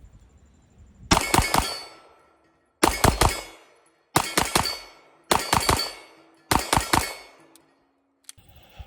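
Kimber 2K11 pistol with custom ports firing five quick strings of three shots each, sharp loud cracks with ringing tails separated by short pauses.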